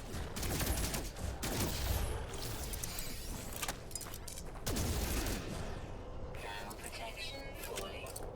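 Guns fire at creatures in the No Man's Sky survival game: dense, repeated bursts of shots and bangs run through the whole stretch, with a voice talking over them.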